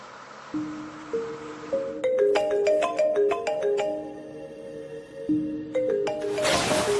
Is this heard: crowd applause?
no